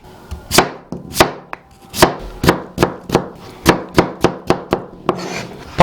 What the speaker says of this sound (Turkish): Patateslerin hepsini doğradık.